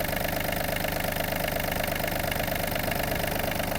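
A Yanmar RS-27 Japanese mini tractor's warmed-up diesel engine idles steadily nearby, a low rhythmic chugging throb with constant knocking texture and no change in speed.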